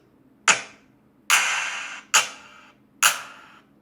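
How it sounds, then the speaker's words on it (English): Four separate drum samples play one after another on a drum machine with short pauses between them. Each one is bright and punchy with a quick decay, and one rings slightly longer. "what we're doing is we're taking individual drum samples"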